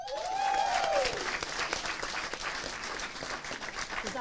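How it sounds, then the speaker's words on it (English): Applause from attendees at a school board meeting as an employee of the year award is announced, steady clapping across the room with a brief tonal squeal near the start, loud and continuous throughout. "Thanks for her applause."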